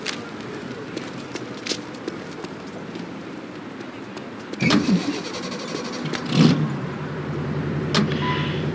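A car in the game The Saboteur starts up and drives off, its engine rising to a steady running drone after a couple of door-like thumps, heard fairly close.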